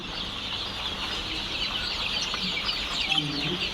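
Fayoumi and Tiger breed chickens clucking steadily over a dense farm background hum, several birds close by and continuous throughout.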